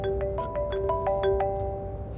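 A mobile phone rings for an incoming call with a bright electronic melody of short repeating notes at a quick, even pace. The tune is heard alone and fairly near.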